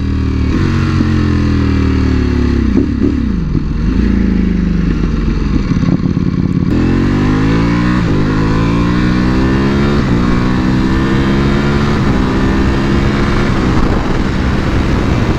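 A Ducati Panigale V4R motorcycle in race mode on a road trip, its engine loud and close as it revs hard and climbs through the gears, with repeated rising pitch sweeps broken by brief dips at each shift.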